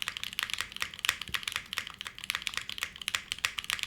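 Rapid, steady keystrokes on a mechanical keyboard fitted with Milky Yellow switches and an FR4 plate, each press a crisp, close clack in a quick uneven rhythm with no talking.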